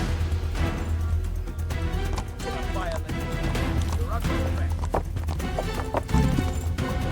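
Horse hooves clip-clop in a steady galloping rhythm in Kingdom Come: Deliverance, loud and close over a castle courtyard, with occasional whinnies, clatter and a voice talking over it.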